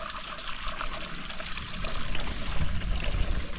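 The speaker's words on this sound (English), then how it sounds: "So here's the gully pipe. This is where I came to get water. And you see, it's flowing good still." Water flows steadily from a gully pipe into a small dog bowl, a close, continuous trickling and splashing that grows slightly fuller toward the end.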